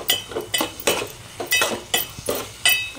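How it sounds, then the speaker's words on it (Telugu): A spoon scrapes and clinks rhythmically against a pan while bitter gourd curry is stirred into tomatoes, with about eight close, loud strokes in quick succession over a faint sizzle. "ఈ టమాటాలో కలిపేద్దాం."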